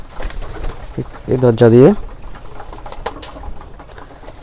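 A native domestic pigeon coos up close in a short rolling burst, heard between bits of someone talking nearby.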